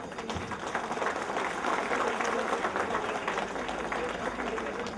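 Loud, dense applause from a crowd at a welcome ceremony for a political leader, sustained clapping filling the space with a busy murmur of voices underneath.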